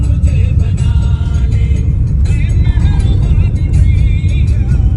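A car cruises around Shimla with a steady, loud low engine rumble and road noise, faint music or voices riding over it from inside the cabin.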